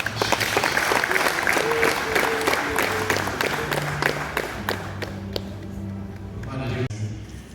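Applause from a wedding crowd welcoming the children at a couple's wedding, steady dense clapping throughout at close range, with voices mixed in and a few sharper isolated claps toward the end.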